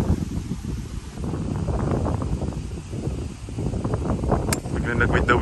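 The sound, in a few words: strong wind blowing on golf course, wind noise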